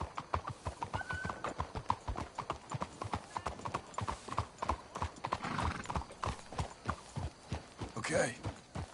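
Horse hooves clip-clop in a steady rhythm in the video game Red Dead Redemption 2, close and distinct, joined by a brief whinny near the end, with people talking over the riding.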